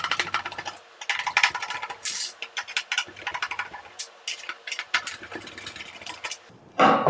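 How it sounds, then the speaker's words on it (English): Screws being backed out of the rear panel of a Pureit RO water purifier, a close run of small clicks, ticks and scraping taps from the screwdriver and fasteners, irregular and dense. "let's remove all 4 screws one by one"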